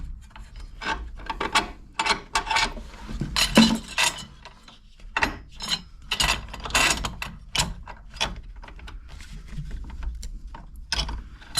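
A ratchet works a bolt loose on a Willys Jeep, giving repeated close rasping clicks and bursts of mechanical clatter in an irregular rhythm, with no talk over it.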